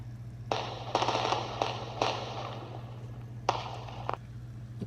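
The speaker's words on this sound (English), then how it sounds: "The fireworks." Fireworks going off outdoors at night: a series of sharp crackling bursts, some clustered, some spaced apart, over a constant low hum, moderately loud with no talking.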